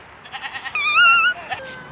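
A goat on a farm gives a single loud, wavering bleat close by, with faint rustling and brief low sounds before and after it.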